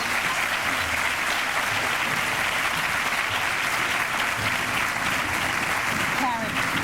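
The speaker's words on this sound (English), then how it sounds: "one more round of applause for all of our performers as they leave the stage." A crowd at a teachers awards ceremony claps steadily and loudly for departing performers, a dense, continuous wash of applause with no pauses.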